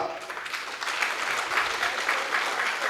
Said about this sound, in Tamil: தலைமை நீதிபதிக்கு மட்டும்தான் கைத்தட்டுறீங்க